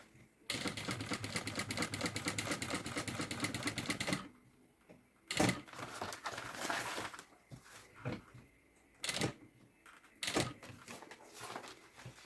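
A sewing machine stitches a zipper onto a pink wheeled travel suitcase, running in a fast steady burst for about four seconds, then stopping and starting in short clattering spurts between pauses.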